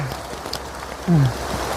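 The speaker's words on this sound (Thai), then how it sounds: "ฝนแรงกว่าเดิมครับตอนนี้" Heavy rain falls at a crowded outdoor pilgrimage site at Khao Kho, Phetchabun, a steady close hiss of drops with a brief tonal sound partway through.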